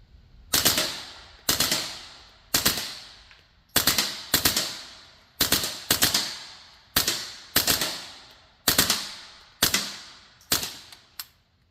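A Ruger Charger 10/22 pistol in .22 LR, set to binary trigger mode, fires about a dozen sharp, loud cracks in quick irregular pairs and singles, each ringing briefly before the next, with no talking.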